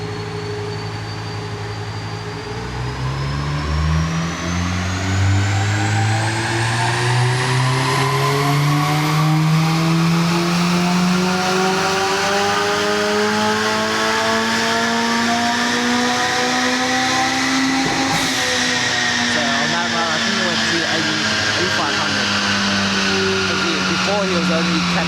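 Tuned car engine on a dyno run, revving in one long continuous pull that climbs steadily in pitch over about fifteen seconds, drops sharply, then runs on at a loud droning level.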